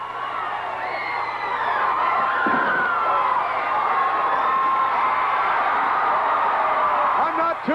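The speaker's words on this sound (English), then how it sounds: "This capacity crowd on their feet." A capacity crowd at a 1985 WWF wrestling event in Boston cheers and shouts continuously, a dense roar with rising whoops and whistles, plus a couple of sharp thuds.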